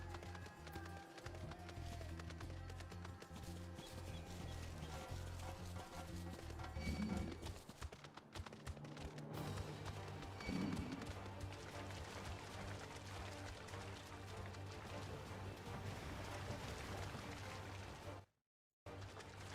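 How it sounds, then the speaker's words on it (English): A horse gallops along a beach in Final Fantasy XIV, with a rapid, steady clip-clop of hooves over a music and ambience bed, briefly cutting out near the end. "One of my favorite things is running through the side of the beach like this on the horse."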